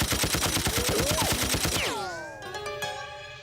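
Rapid cartoon machine-gun fire rattles in a dense, loud burst for about two seconds against a bullet-repelling suit, then gives way to ringing ricochet whines and metallic pings that fade out.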